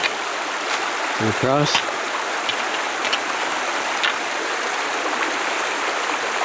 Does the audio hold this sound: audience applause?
no